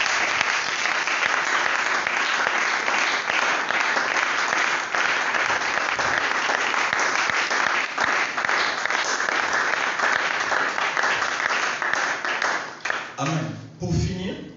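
Church congregation applauding and cheering after a sermon, dense sustained clapping filling the room, then tapering off as a voice begins speaking near the end.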